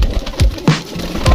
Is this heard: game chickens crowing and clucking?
no